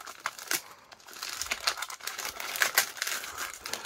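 Close, quiet snipping and crinkling of plastic packaging cut with small scissors, irregular small cuts and rustles in bursts.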